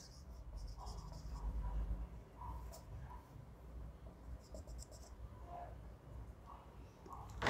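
A lecture board being wiped clean during a physics class, a faint continuous rubbing stroke under room hum, with a few soft knocks and light background voices.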